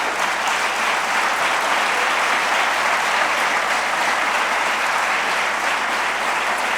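Sustained applause from a large church congregation, steady and fairly loud throughout with no break, a dense wash of clapping.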